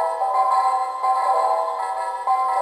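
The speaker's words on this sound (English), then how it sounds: "This is the alarm." An alarm chime from a clock in a Christmas village display, a repeating melodic electronic tone sounding in short bursts about once a second, clear and close with no other sound.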